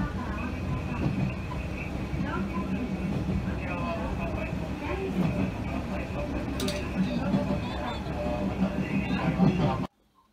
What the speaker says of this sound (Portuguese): pegamos este antigo trem, por sinal muito bem conservado, como tudo aqui no Japão